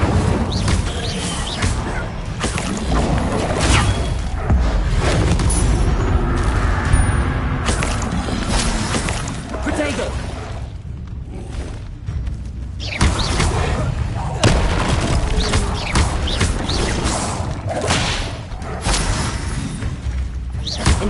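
Roaring, crackling bursts of conjured flame from the Incendio fire spell in Harry Potter, loud and broadband, swelling and breaking off repeatedly across the stretch, with voices underneath.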